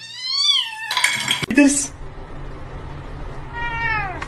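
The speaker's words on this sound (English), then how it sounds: "Look at this little kitten." A kitten meows several times in high, rising cries, loud and close, with a clatter of dishes or cutlery in between and a person speaking briefly.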